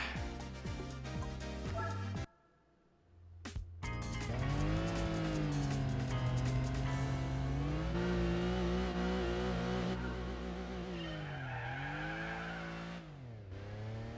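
Car engine droning and shifting pitch as the vehicle slides under handbrake in Gran Turismo 4 on PS2, a sustained loud revving tone that rises and falls after a brief drop-out near the start.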